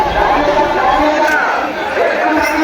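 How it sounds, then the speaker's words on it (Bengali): A dense crowd chatters at a busy railway station packed with pilgrims, many of them walking along the tracks. The murmur of many voices stays loud and steady, with footsteps and general bustle mixed in. "স্টেশনে মানুষের ভিড় এতটাই ছিল যে প্রচুর মানুষ রেল লাইন দিয়েই হাঁটছিল।"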